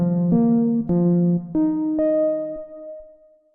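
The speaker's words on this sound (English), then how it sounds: "that gives us a new note in our sequence that sounds like this" A sequencer pattern steps through synth notes in a short rising run of about five tones, each a bright sustained tone that changes pitch, the last note ringing out and fading, played alone with no talking.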